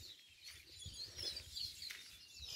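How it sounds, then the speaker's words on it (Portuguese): Small birds chirp and sing among juazeiro trees, several short high calls repeating faintly at a distance over a quiet outdoor background. "O passarinho tá tudo cantando aqui"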